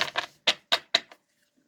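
A deck of cards being shuffled by hand makes five or six crisp, separate papery snaps in quick succession, close to the microphone, then falls silent.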